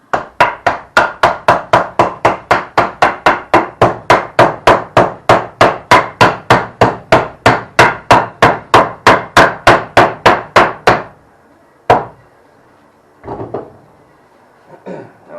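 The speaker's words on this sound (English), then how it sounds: "Now, I'm going to carefully mallet this bad boy." A mallet strikes cedar toy box parts together in a fast, even series of about thirty sharp, loud knocks, followed by a few scattered taps after a pause, with no one talking.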